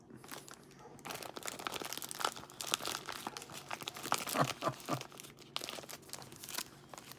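Close, steady crinkling and crunching as a pipe bowl is pushed into a pouch of Carter Hall pipe tobacco and scooped, with dry leafy rustles continuing throughout and no talk.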